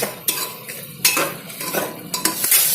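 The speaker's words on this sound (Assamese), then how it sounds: "এতিয়া আমি লৰাই লম আৰু মনত ৰাখিব যাতে ফ্লেমটো যাতে হাই ফ্লেম নহয়" A utensil scrapes and clinks against a pan while jackfruit masala gravy is stirred over low flame, producing several sharp metallic knocks between soft scraping and a faint sizzle.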